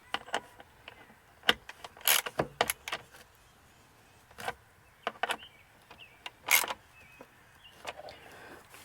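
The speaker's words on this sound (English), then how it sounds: "we're gonna go ahead and put the 10 millimeter bolt through here, through the battery cable" Small metallic clicks, taps and scrapes ring out at close range as a 10 mm bolt is fitted through a car battery cable, scattered irregular knocks separated by quiet gaps.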